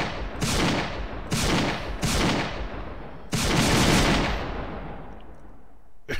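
Gunfire on an Unreal Engine 4 video game test range: four loud, booming shots or short bursts in quick succession, each with a long decaying echo, the last tail fading into quiet.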